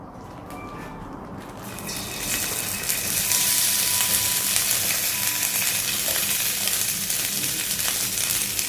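Ingredients sizzle and fry in a hot pan for a stir-fried rice dish, a steady loud crackle that swells after a quieter start and holds evenly without any speech.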